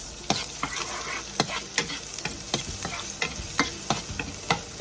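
Garlic and onion sautéing in a pan, a steady close sizzle broken by repeated sharp scrapes and clacks of a utensil stirring at a brisk, uneven rhythm, with no talking.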